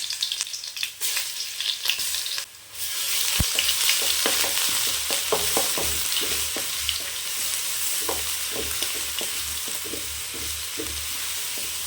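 Mustard seeds, urad dal, curry leaves and ginger-garlic fry in hot oil for a mutton varuval, giving a steady loud sizzle with scattered pops and crackles and a few stirring clatters, no voices.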